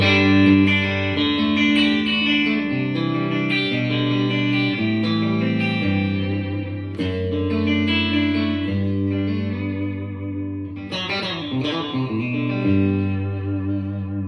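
Distorted electric guitar chords from a Seymour Duncan Twang Banger bridge pickup in an American Professional II Stratocaster ring out one after another, bright and twangy, each strummed chord sustaining before the next.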